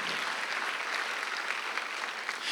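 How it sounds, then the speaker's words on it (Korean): A congregation at a Sunday church worship service claps together in a brief, even burst of applause, steady and fairly soft, with no voices over it. "박수 한번 주세요"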